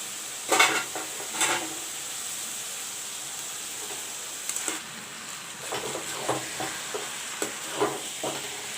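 Vegetable chow mein noodles being tossed and stirred in a pan over low flame, a soft steady sizzle broken by scattered scraping and clinking of the utensil against the pan, no talking.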